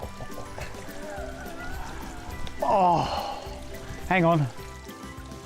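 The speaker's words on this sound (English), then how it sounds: "This is Pennine spring water, good enough to drink, even better to relax in." Cold Pennine spring water trickles and splashes close by in the open hills, a steady burbling stream under a man's brief exclamations and speech.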